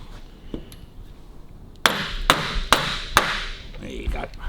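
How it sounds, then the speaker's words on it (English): A piece of wood tapping a wedged girder fork part on a 1929 Triumph motorcycle, four sharp knocks in quick succession after a quieter opening, close and distinct. "let's get a bit of wood and give it a little tappy"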